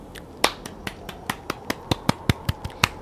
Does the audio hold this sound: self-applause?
yes